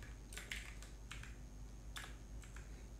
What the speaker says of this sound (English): I will type context